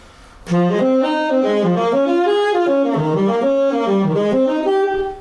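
A saxophone plays a simple jazz solo built from chord tones, a clear, close legato line of connected notes stepping through the changes, loud and alone for about five seconds.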